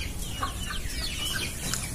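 A pakoy rooster clucks in several short, fairly faint calls over a steady background of farmyard noise, with no voices heard.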